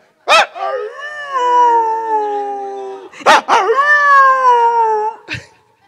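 Someone imitates a dog with two long, sliding howls, each opening with a sharp yelp, close and loud, ending on a brief bark.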